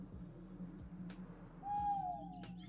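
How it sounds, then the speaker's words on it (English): An owl in a modded Minecraft world gives a soft, distant hoot over a low ambient hum, a thin tone rising near the end. "That sounds like an owl."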